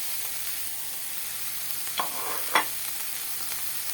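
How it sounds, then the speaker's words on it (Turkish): Peppers sauté in a pan with a steady, quiet sizzle. A couple of sharp stirring scrapes stand out, and no one is speaking. "biberleri döküyorum. Kavuruyorum."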